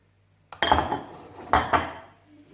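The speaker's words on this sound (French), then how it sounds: "je vais sortir hop, mon panier de cuisson" A Thermomix cooking basket lifted out of its bowl, giving a few close metallic clanks and knocks after a moment of near silence, then fading.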